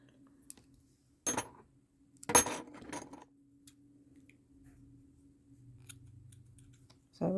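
Scissors snip through crochet yarn in a few short, crisp cuts close by, separated by quiet pauses with a faint low hum underneath.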